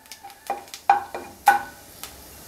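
Cardamom, cloves and cumin are stirred in a pan with a spoon. A series of sharp metallic taps and scrapes comes at an uneven pace over a faint sizzle, heard up close with no talking.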